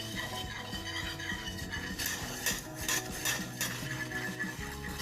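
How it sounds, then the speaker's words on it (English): A whisk clatters against a bowl while mixing raspberry gelatin, a steady run of quick scraping and tapping strokes up close, with sharper clinks now and then. "Keep mixing until your whisk stops needing resistance"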